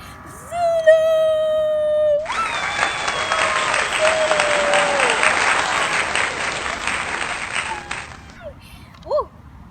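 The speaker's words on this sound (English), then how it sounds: "let's all give a round of applause" A group claps and cheers in a sustained burst of applause lasting several seconds, loud and close, preceded by a long whining, howl-like tone and followed by a brief whimper.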